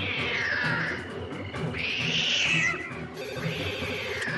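A cartoon cat from Kid vs Kat meows in three long, drawn-out yowls, loud and close, with no speech over them.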